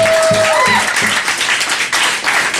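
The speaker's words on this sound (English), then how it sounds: "Everybody give it up for the comedians that will be coming up on stage tonight" An audience at an open mic comedy night at Cafe Diem in Richmond, Virginia, applauds the comedians. Steady, close clapping fills the room, and a voice speaks over it.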